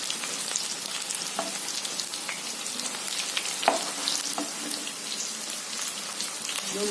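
Fritters fry in a pan of hot oil, a dense, close crackling sizzle with occasional sharper pops and light clicks of a utensil against the pan.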